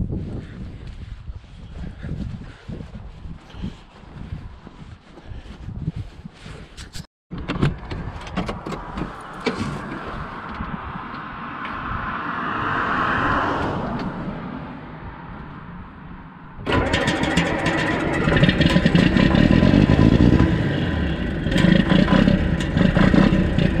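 A John Deere 4430 tractor's engine rumbles steadily at close range, with wind buffeting, and grows louder and fuller near the end as it starts and warms up.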